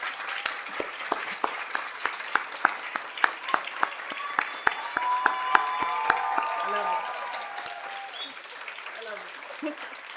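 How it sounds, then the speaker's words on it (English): An audience applauding graduate students at a UCSF Grad Slam event: a few sharp early claps build into sustained clapping that tapers off toward the end, with faint voices and cheers mixed in. "let's just applaud them for getting to this position."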